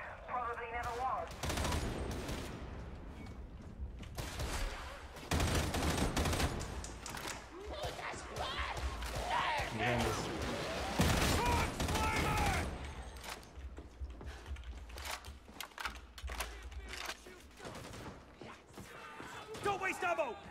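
Rapid video-game gunfire, bursts of fusillade and machine-gun fire, runs loud and dense through most of the stretch, with clattering mechanical sounds mixed in and voices talking over the shooting.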